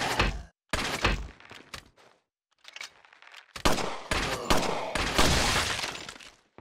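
Gunfire in Resident Evil 4 Remake, set in a castle: sharp, loud shots and bursts arriving in irregular clusters separated by brief silences, close and dominant.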